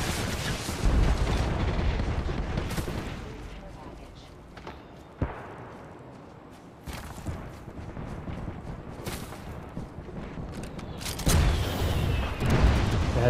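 Distant gunfire and booming explosions from two teams fighting in a valley in the Apex Legends video game, scattered bursts and thuds rising and falling under ongoing talk.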